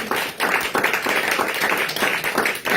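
A church congregation claps to acclaim Jesus, a dense, fairly loud wave of hand claps rising and falling in rhythmic surges.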